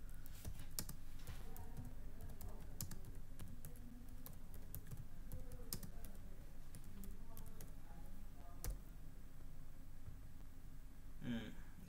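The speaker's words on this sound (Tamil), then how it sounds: "நான் திரும்ப வந்து ஹெட்டர் டைப் பண்ண போகிறேன்" Computer keyboard typing in steady bursts of clicks with brief pauses, fairly close and moderately loud, while entering a document header in a word processor.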